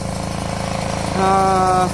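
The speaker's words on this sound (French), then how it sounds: "Je vais laisser tourner un petit peu comme ça. Le moteur prenne la température." Peugeot 103 moped engine idling after a push-start restart, a rapid steady two-stroke putter close by, rising briefly to a higher buzzing pitch near the end.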